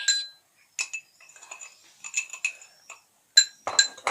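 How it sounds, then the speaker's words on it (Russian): A metal spoon stirs sugar into fresh lemon juice in a glass, producing a series of bright, ringing clinks against the glass in irregular clusters, close and fairly quiet with near-silence between strikes. "И размешиваем."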